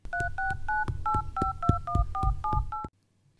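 Phone keypad dialing tones: about ten quick two-tone beeps in a steady, slightly uneven rhythm, close and clear, stopping abruptly into silence.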